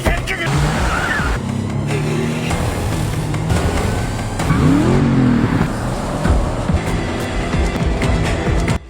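Car engines in an action-film chase scene roar continuously and loudly for the whole stretch, with shifting revs and a rising, sweeping whine near the middle as vehicles race close by.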